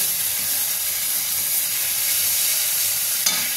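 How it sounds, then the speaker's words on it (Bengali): Chilli paste, salt and turmeric sizzling in mustard oil in a pan, a steady close frying hiss with faint stirring scrapes and no talking. "নুন দিয়ে দিলাম, হলুদ দিয়ে দিলাম, দিয়ে আমি একটু কষিয়ে নেব"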